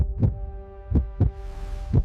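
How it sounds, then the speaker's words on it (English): Heartbeat sound effect in a tense Ice Age hunting scene: deep, muffled thumps in a quickening lub-dub rhythm, four strong beats over about two seconds, close and booming above a faint sustained drone. "Heartbeats quicken."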